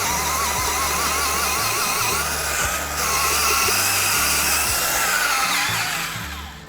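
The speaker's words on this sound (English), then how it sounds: "this is putting a huge strain on the drill" A cordless drill drives a Power Planter auger down into heavy clay soil, its motor whining steadily under strain with a grinding, churning texture, close and loud for several seconds before easing off.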